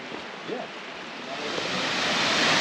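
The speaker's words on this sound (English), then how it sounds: "Beautiful waterfall." Sycamore Falls on the Fiery Gizzard Trail pours as a continuous broadband roar that grows louder over a few seconds as if approached, with a brief faint vocal sound near the start.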